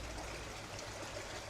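Water from a carbon filter pours steadily into a garden koi pond, a continuous close rushing trickle with no pauses.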